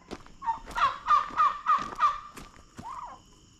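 Turkeys gobble in a quick burst of several warbling calls, fairly close, followed by a couple of shorter calls; no talking.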